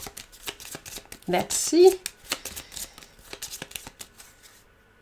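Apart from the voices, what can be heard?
shuffling a deck of cards for a board game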